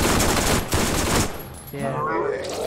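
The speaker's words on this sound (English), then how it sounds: "Can I shoot you from up here?" Gunfire in the video game Borderlands, a loud continuous stream of shots for over a second, then quieter game sounds.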